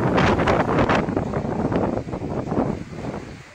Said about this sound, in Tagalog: Malakas din ang hangin kaya maalon sa bayan ng Santa Ana